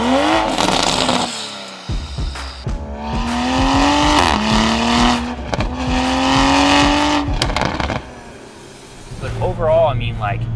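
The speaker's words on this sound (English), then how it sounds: "for a stock car and just a downpipe, it sounds pretty damn good" A stock 2021 Toyota Supra fitted with only a downpipe accelerates and revs hard through its gears on a canyon road, the engine rising and dropping in loud pulls and shifts, with a voice talking over parts of it.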